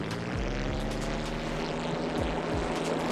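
A small propeller plane's engine drones loud and steady with a rhythmic pulsing buzz inside a flying game, close and continuous with no voices.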